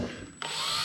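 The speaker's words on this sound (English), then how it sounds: "Once these holes are drilled, I'll put holes" A power drill bores holes through a metal hood panel during hood fabrication, a steady close whine that starts partway in and runs loud and alone to the end.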